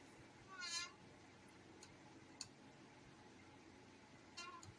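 A cat meows twice in a shop where a yarn creel is being built: a clear, fairly close meow near the start and a shorter one near the end, with faint clicks and a steady low hum between them.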